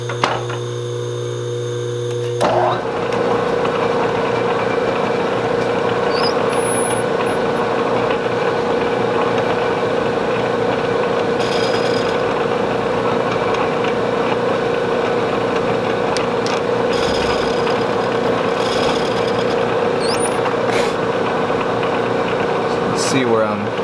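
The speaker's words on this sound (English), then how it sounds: "we're ready to cut that with an end mill. The Bridgeport back in gear, of course." A Bridgeport milling machine in back gear cuts with an end mill, its steady motor drone and cutting hum running continuously after a brief start, with faint clicks over the top.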